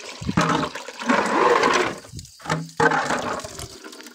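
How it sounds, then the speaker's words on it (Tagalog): Water flows strongly and steadily, a loud gushing rush with a brief break in the middle before the surge resumes, heard close and alone without talking. "Kusog kay agas ang tubig."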